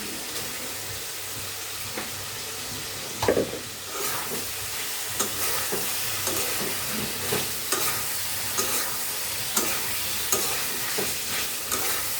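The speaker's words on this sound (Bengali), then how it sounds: "জিরা গুঁড়া ভালো করে কষিয়ে নেব" Cumin powder sautés in a pan for a fish dish, a soft continuous sizzle under repeated spatula scrapes and taps, with one louder clatter early on.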